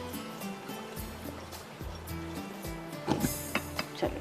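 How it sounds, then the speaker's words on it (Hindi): Water poured out of a pot of soaked rice runs in a steady splashing trickle, with a few louder sloshes near the end, heard close up in a home kitchen. "निकाल लेती हूँ सारा पानी।"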